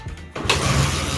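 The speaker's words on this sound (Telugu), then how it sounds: "బండి అయితే ఒకటే కిక్ అయితే స్టార్ట్ అయిపోతుంది" Motorbike left unused for a year catching on a single kick at a village mechanic's, the engine bursting into a steady, loud, close idle after a brief quiet moment.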